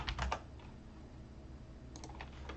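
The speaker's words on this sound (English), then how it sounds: "I'm bad at typing." Fingers type on a computer keyboard in quick bursts of soft clicks, first at the start and again near the end, with a quiet pause between, recorded close and faint.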